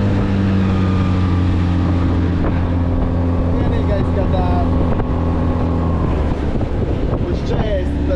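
A Tohatsu outboard motor drives an inflatable boat, a steady loud engine drone with tonal hum and water splashing, while people talk over it.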